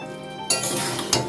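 Whole small green chillies and soaked soybean chunks go into a pan of potol soybean curry. A sudden close sizzle flares up with a brief clink of a utensil.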